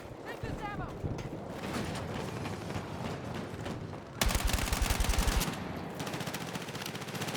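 Automatic gunfire fills a Battlefield 6 multiplayer match, with rapid rattling bursts throughout and a louder, denser stretch of close fire near the middle, mixed with other battle noise and someone speaking over it.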